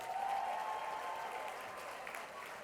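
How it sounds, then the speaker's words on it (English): A room full of audience members at a benefit event applauds the lawyers present, a dense wash of clapping that starts strong and slowly tapers off over a few seconds. "a round of applause for all the brilliant lawyers in the room"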